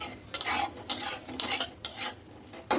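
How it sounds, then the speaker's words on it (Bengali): Fish roe fries in a pan while a utensil stirs it, giving about five rhythmic, close scraping bursts over a soft sizzle, with short pauses between strokes. "দেখো ডিমগুলো ভাজা হয়ে গেছে"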